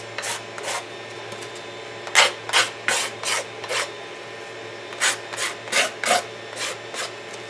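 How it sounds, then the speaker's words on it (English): Hand file rasping sharp edges off wooden parts, a series of close, evenly spaced strokes in two runs, each stroke a short dry scrape, with no voices. "and I file those sharp edges off."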